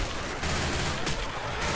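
Pistol gunshots in a video game: a few quick, fairly faint shots in a short burst over steady background noise.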